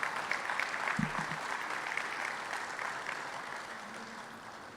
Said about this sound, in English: Join me once again in a round of applause for all the letter of recommendation recipients.